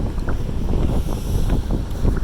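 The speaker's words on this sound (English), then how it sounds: "Windy up here on the higher decks," Steady wind buffets and rushes across the open upper deck of a cruise ship, a continuous blustery roar with faint water noise beneath, no voices.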